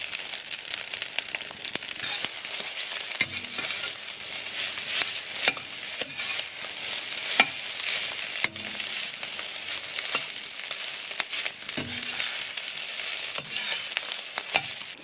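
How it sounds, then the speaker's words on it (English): Eggs and rice stir-fried together in a hot pan give a steady, close sizzle, broken by irregular scrapes and light knocks of the utensil tossing them, with no talking. "一起翻炒 stir fry them together"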